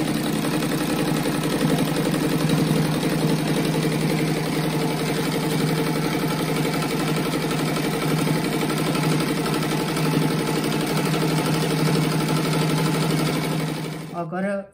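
A sewing machine stitches a seam around a patchwork fabric rug, its steady loud motor hum and rapid needle rhythm running continuously before cutting off abruptly near the end.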